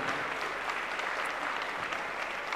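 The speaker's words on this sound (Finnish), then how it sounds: "Annetaan vielä raikovat aplodit Tommi Köngäs ja Oulun Kamppailuklubi." A crowd at a live fight event applauds with dense, steady clapping that fills the whole moment, loud and sustained without a break.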